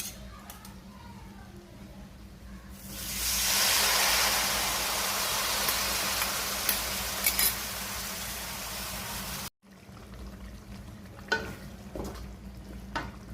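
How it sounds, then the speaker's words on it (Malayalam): Hot water is poured into a sizzling pan of mango pickle gravy, setting off a loud rising hiss that holds for several seconds before cutting off abruptly, followed by quieter bubbling and a few clinks. "ഇനി ഈ ചൂടുവെള്ളം കൂടി ഞാൻ ഇതിൽ ഒഴിച്ചു കൊടുക്കുന്നുണ്ട്"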